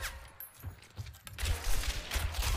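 Gunfire from a first-person hunting video game comes in a few quick, sharp bursts with brief gaps between them. The shots are fairly quiet and close in the mix, with no other sound competing.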